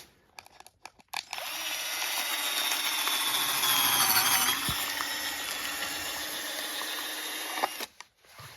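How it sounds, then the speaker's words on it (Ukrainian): A drill bores holes in 200-gram plastic seedling cups for early cabbage, its motor whining steadily for several seconds after a few short clicks, then cutting off abruptly, close by with no talk. "як ми робимо в них отвори? Беремо сверло."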